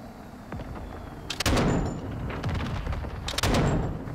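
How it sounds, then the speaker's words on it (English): Gunfire in the Call of Duty DMZ video game: a few sharp shots, then two bursts of rapid, loud rifle fire with echoing tails, separated by a short lull. "Shooting near the bodies in case they get a hit marker."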